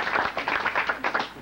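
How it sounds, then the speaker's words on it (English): An audience at a broadcast pioneers gathering gives a short round of applause for a recently re-elected Philadelphia city council member, with quick, fairly close clapping that pulses unevenly and no talk over it. "Yes, that deserves a round of applause."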